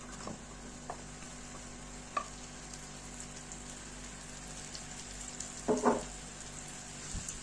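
Onions go into hot oil in an empty frying pan, giving a faint, steady sizzle with a brief louder crackling burst near the end, no voices.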